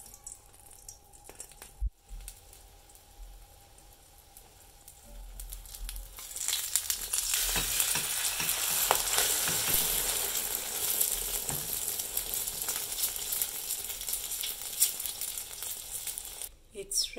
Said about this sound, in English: After adding my egg in the frying pan, I'm going to let it cook for 2 to 3 minutes.